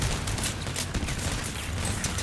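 Continuous machine gun fire rattles through a vehicle battle in the game Crossout, rapid dense bursts close and loud with no pause.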